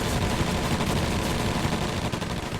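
Dense, continuous gunfire rattles in a war video game, Drive on Moscow, with overlapping rapid shots forming a steady noisy barrage throughout.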